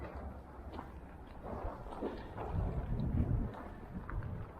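Steady outdoor wind buffeting the microphone, a low rumbling roar that swells and gusts toward the middle, with no voices.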